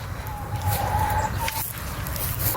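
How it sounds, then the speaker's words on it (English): Hens in a small farm chicken coop of seven birds, clucking and murmuring close by, one drawn-out cluck standing out above a busy low rumble of movement. "Let's check out the chickens."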